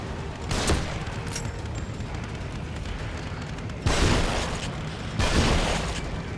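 Gunfire in The Evil Within video game: a few loud, sharp shots spaced seconds apart over a dense, noisy background rumble, with no talk.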